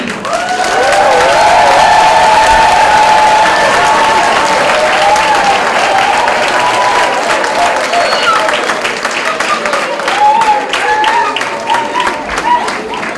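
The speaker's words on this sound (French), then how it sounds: "applaudissons chaleureusement tous nos diplômés." Loud, sustained applause for graduates at a college graduation ceremony in Toronto, a dense crowd clapping with some cheering and voices woven through, steady for the whole stretch.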